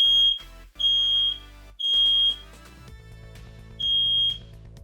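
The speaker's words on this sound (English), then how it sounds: "I forgot they are testing the alarm system today." A building alarm system under test sounds a loud, piercing electronic tone in four separate blasts, broken by short gaps, with a lower humming tone continuing in the background.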